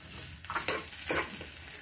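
Dry red chillies and curry leaves fry in a pan with a brief, close crackling sizzle and a couple of louder spattering stir strokes, with no talking.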